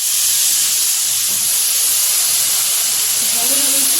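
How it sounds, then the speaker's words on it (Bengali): Nigella seeds and ginger juice hit hot oil, producing a loud, steady hiss of sizzling throughout, close and continuous with no talk. "এখন ওই তেলে দিয়ে দিচ্ছি কিছুটা কালো জিরে ফোড়ন"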